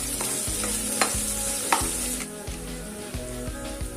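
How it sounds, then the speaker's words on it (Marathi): Chopped tomatoes fry and hiss in a pan for chicken sukka while a spoon stirs them with a few sharp scrapes and clacks against the metal, close and steady with no voices. "टॅमॅटो टाकून घेऊयात आपण, ते छान पैकी असं हलून घेऊयात"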